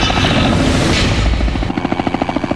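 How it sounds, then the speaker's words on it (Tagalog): A helicopter landing at a hospital, its rotor roar loud and close, breaking into a steady rapid chopping thump as it settles. "Alas 11 ng umaga na lumapag sa St. Luke's Medical Center sa Taguig ang helicopter."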